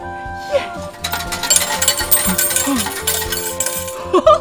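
A rush of coins clatters and jingles out of a change machine at a car wash into a metal tray, a busy metallic cascade with voices faintly in the background.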